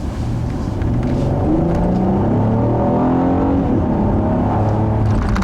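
A 2015 Acura TLX V6 front-wheel drive car accelerating hard, its engine note steadily loud and rising through the gears in continuous interior drone, with no talking.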